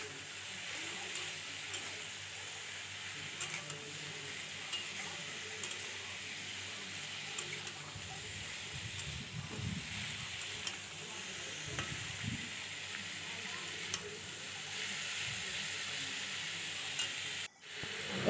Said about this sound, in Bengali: আবারও ভালো করে একসঙ্গে সব কিছু ভালো করে নেড়ে